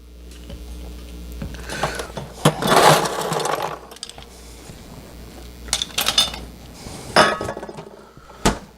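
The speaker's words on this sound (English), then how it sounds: "get your shaker tin. Throw some ice in there" Ice being tossed into a metal cocktail shaker tin for a tequila margarita, heard as a few loud clattering rattles and clinks in separate bursts against a quiet background.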